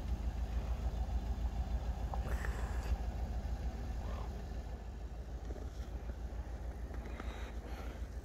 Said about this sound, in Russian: машина едет, как слышно.